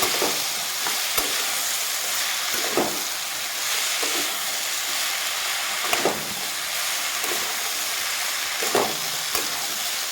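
A small-fish curry with potato, eggplant, ridge gourd and tomato sizzles steadily in a pan, with a constant close hiss and periodic scraping stirs of a spoon.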